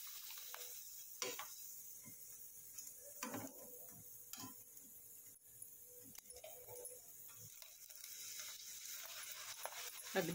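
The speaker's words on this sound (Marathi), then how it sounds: "आता आपण दुसरी एक तळून बघू." Poha kurdai frying in hot oil, giving a faint, steady sizzle with scattered small pops and ticks throughout, under a low background hum.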